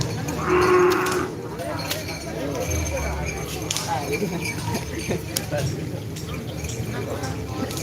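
Cattle moo at a karapan sapi bull race at Lapangan Asemanis in Pamekasan in 2023, loud nearby lowing over a busy outdoor crowd, with voices and creaking in the background.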